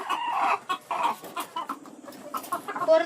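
Chickens cluck close by at a farm coop used for egg harvesting, with a run of short, uneven clucks and squawks and no talking.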